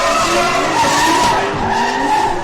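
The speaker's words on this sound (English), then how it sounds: "Dangerous transition from Flash, pushing up nice and tight to the Celsior as they head down around the sweeper." Tires on a drift car, including a Toyota Celsior, squeal loudly and continuously as the cars skid sideways through a sweeper at a pro drift competition, with engines roaring underneath the sustained screech.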